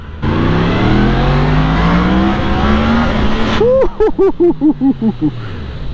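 A Yamaha MT10 four-cylinder motorcycle revs up in a long rising pull. A rapid series of sharp, loud rev blips follows near the end. The sound is close and strong, with faint wind noise underneath.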